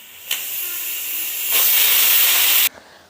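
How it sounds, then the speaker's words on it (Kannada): A pressure cooker on a gas stove lets off a steam whistle, a loud, bright hiss that swells and holds for over two seconds before cutting off sharply, with no talking. "ಕ್ಲೋಸ್ ಮಾಡಿ ಗ್ಯಾಸ್ ಜಾಸ್ತಿ ಮಾಡಿದ್ದೀನಿ ಸೊ ಈಗ ಮೂರು ವಿಷಲ್ ಆಗೋದನ್ನು ವೆಯ್ಟ್ ಮಾಡೋಣ"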